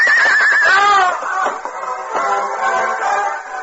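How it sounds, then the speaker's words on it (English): A horse in an old western radio drama gives a loud, shrill whinny that wavers and then breaks off, followed by muffled scrambling and trailing snorts as the animal stumbles nearby. "As Hal hurriedly turned his horse and started back, the animal stumbled, throwing the young outlaw"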